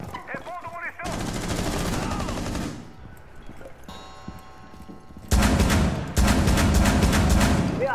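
Rapid bursts of gunfire in Tom Clancy's Rainbow Six Siege, loud and sustained, with a short quieter gap before an even louder volley.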